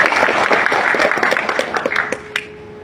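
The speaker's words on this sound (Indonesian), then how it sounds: "Tepuk tangan buat Pak Horas, perwakilan Kemendagri kita" An audience at an Indonesian gathering applauds a ministry representative, a dense burst of clapping that thins and fades into scattered claps before ending.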